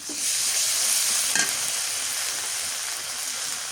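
Chopped onion, green chili, and garlic and onion paste sizzle loudly in a pan with a steady hiss, and a single scrape of stirring is heard near the middle.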